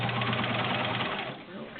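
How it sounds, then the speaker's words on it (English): A Kenmore Model 1400 sewing machine with a size 16 needle stitches through the seams of a Levi denim pocket, a fast steady mechanical chatter, close and loud, slowing slightly near the end. "I'm going to go right through it with a size 16 needle."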